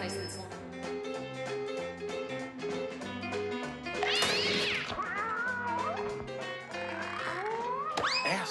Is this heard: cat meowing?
yes